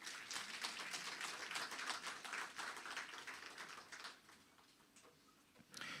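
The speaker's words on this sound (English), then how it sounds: "I think they deserve an applause for that." Faint, thin applause from an audience at a lecture on nuclear weapons policy, quick scattered claps heard from a distance that thin out and fade near the end.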